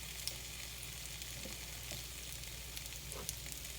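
Potatoes fry in a hot preheated skillet, giving a steady, even sizzle with no voices and an occasional soft tap or clink.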